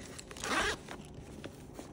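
A single quick zip on the pocket of a Lululemon two-tone canvas tote bag, close and fairly loud, followed by faint handling rustles.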